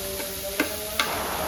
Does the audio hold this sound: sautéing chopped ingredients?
yes